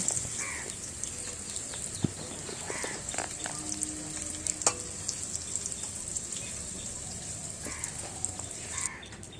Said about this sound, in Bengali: তারপর পনিরগুলো তুলে সেই তেলেই দিয়ে দেবো ক্যাপসিকাম ক্যাপসিকামগুলো হালকা নেড়ে চেড়ে ভেজে